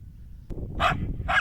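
Two loud, close dog barks in Slavske, spaced about half a second apart over a low rumbling background, following a single sharp knock.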